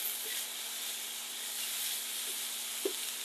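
Stir fry of vegetables, apple and sliced pieces turned with a spatula in a hot pan, a steady close sizzle and hiss running throughout with soft scraping stirs and one brief louder clack near the end.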